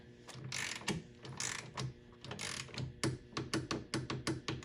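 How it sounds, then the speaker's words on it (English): A torque wrench ratchets a nut tight to 20 foot-pounds, clicking in close, repeated bursts of pawl ticks that quicken into short, evenly spaced strokes near the end. "Here I have my torque wrench, and it is set to 20 foot-pounds right there. Let's go ahead and get this one tight."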